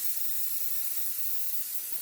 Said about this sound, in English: A bit of hairspray, super hold hairspray.